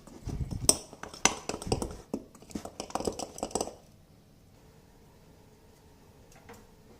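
Whisking or stirring of lemon cream ingredients in a bowl, a run of irregular clinks and scrapes of utensil against the bowl for a few seconds, close and moderately loud, then near quiet.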